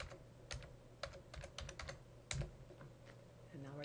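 Keys tapped on a computer keyboard while entering a record number in Horizon library software: a dozen or so quick, uneven clicks at close range over a low steady hum, with no talking.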